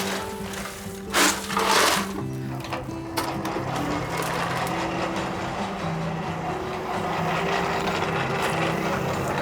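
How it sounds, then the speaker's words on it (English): A hand-cranked blower forces air up through the bottom of a blacksmith forge, making a steady mechanical whirring drone with rhythmic gear rattle and a few louder whooshes early on. "We're using a hand blower here today. It will allow us to blow air straight up through the bottom of the forge."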